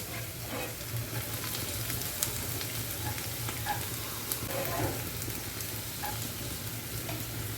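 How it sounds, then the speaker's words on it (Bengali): Onion fries in oil with a constant, even sizzle, broken by occasional small pops and light stirring sounds. "লাল লাল করে ভেজে নিচ্ছি পেঁয়াজটা"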